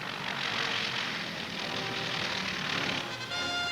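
The engine of a Beaver, a rugged military utility plane, drones steadily at a distance in a continuous, even roar with no voices.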